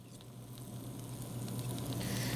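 Meatballs, shaped with a meatballer and rounded with a spoon, sizzle steadily in a hot pan. The crackle stays even and close and grows slightly louder as more go in, with no voices.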